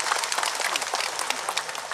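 A crowd at an Islamic religious gathering in Ponorogo claps steadily, dense and loud, the many hands blending into a continuous wash of applause with no voices over it.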